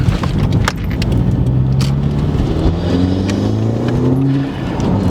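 A 2018 Subaru WRX engine with a GrimmSpeed aftermarket intake revs up and down close by, a deep throaty rumble rising and falling in pitch over a few seconds.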